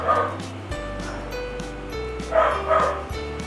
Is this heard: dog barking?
yes